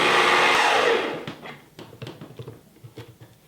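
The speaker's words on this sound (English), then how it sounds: "I'm just going to turn on the blender and let it blend for a little bit." A loud blender grinding coconut flakes whirs for about a second, then cuts off, followed by soft knocks and rustles.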